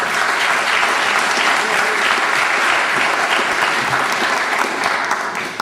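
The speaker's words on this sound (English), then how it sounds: "if you will give him a round of applause." A school event audience applauds steadily, a dense, even wash of clapping held at moderate loudness throughout.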